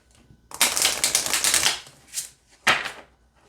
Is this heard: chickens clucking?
no